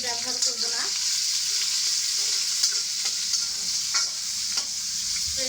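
Onions and chilies frying in plenty of oil, a continuous hissing sizzle with stirring scrapes here and there, moderately loud and close, no voices.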